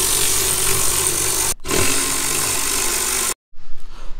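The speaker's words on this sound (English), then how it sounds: "Once you remove all the screws" A power driver buzzes as T30 screws are taken out of a Porsche engine cover, two loud sustained whirring runs broken by short stops, followed by softer handling noise.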